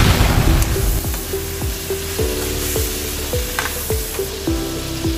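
Pork ribs fry and brown in a pan with a loud, steady sizzle, while a spoon stirs with regular close knocks roughly every half second. No one speaks.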